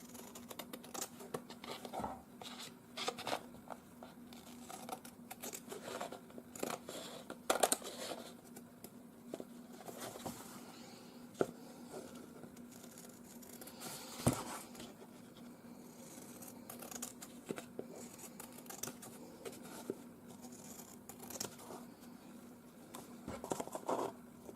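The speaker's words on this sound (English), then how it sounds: "And now I'm just going to cut the excess off." Scissors snip and rub through taut fabric, trimming off excess in a quiet run of small scratchy cuts and rustles, close by and without talk.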